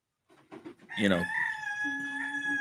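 A resident rooster gives a few short clucks, then launches into one long, loud cock-a-doodle-doo crow, close by and with no speech over it.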